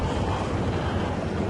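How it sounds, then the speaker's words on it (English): Gale force wind on an exposed hillside roars steadily, with dense broadband buffeting against the microphone and no pauses or speech. "This was gale force winds, driving rain in your face."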